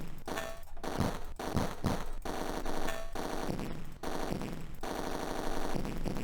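Rapid bursts of gunfire come from Atari ST rail-shooter Roller Coaster Rumbler, crackling repeatedly in loud volleys over tonal game sound effects, with short gaps between bursts.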